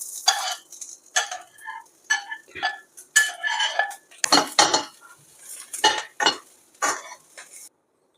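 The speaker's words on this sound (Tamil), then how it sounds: "இப்போ நம்ம இந்த மைக்ரோவேவில் வச்ச காய்கறியை போட்டு கொஞ்சம் நேரம் வதக்கலாம்" Microwaved vegetables being sautéed with spices in ghee in a pan, heard as a run of sharp metallic clinks and scrapes from a spoon against the pan, irregular and close, with a faint sizzle and no talk.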